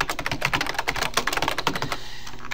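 Rapid, steady keystrokes on a computer keyboard, close and clear, forming a dense clicking run that slows and thins out near the end, with no one talking.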